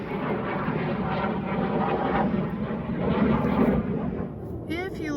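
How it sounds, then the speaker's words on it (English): Planes pass over a garden, making a broad, steady roar that swells and fades slightly and fills the whole stretch. "Planes are flying over."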